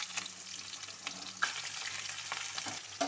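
Cut, washed pumpkin pieces frying in a pan with black cumin seeds, a quiet steady sizzle with a few soft clunks and stirring scrapes, no voices.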